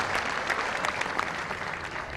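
Warm audience applause at a Hyderabad mushaira greeting the poet Saghar Khaiyyami, with dense close clapping at steady loudness across the short stretch and no voices.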